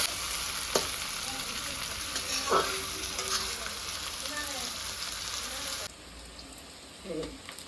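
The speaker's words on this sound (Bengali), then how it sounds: "পেঁয়াজ ছেড়ে দিলাম। পেঁয়াজগুলো ভাজ।" Steady sizzle of onions frying in a pan, a continuous hiss with a few stirring clatters, dropping quieter near the end.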